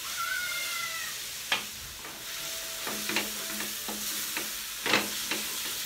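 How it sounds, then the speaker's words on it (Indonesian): Chili paste for Manado-style ayam woku frying and being stirred in a wok, with a steady close sizzle broken by several sharp scraping stirs, and a faint meow-like squeak drifting through. "Cabenya udah matang, sudah kegoreng."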